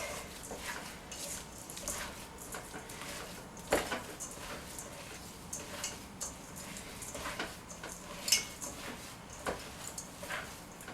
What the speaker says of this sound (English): I'm going to add some black pepper. About a quarter teaspoon. Give it another mix.